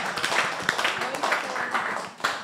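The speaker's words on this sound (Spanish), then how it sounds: "Un aplauso." Scattered clapping from a small group during a Spanish-language religious class, brief sharp claps mixed with voices talking and cheering over them.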